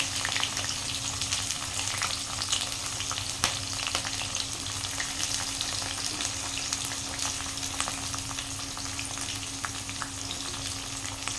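Onions frying in hot oil in a pan for fish curry, a loud, constant close sizzle with occasional crackles and no talking.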